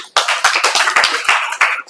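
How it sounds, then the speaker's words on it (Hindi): A classroom of students breaks into brisk applause, many hands clapping together in a dense, lively burst that starts sharply and carries on for a couple of seconds before tapering off. "चलिए एक बार ताली बजाइए इनको लिए।"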